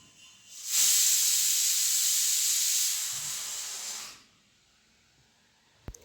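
A pressure cooker releases steam in one loud, continuous hiss lasting about three seconds, then cuts off, leaving a quiet room with a faint knock at the end.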